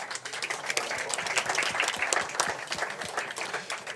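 At a tech pitch competition, the audience claps for a jury member being introduced, producing a lively, moderately loud patter of many distinct hand claps.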